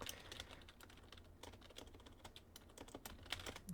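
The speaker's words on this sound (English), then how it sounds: "I had a tough time typing." Rapid, continuous typing on a computer keyboard, soft close-up key clicks pattering unevenly for several seconds in a quiet room, with no talking.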